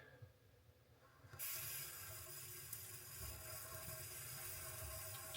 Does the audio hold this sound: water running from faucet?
yes